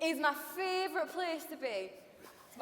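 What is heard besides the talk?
None of the usual background noises is heard.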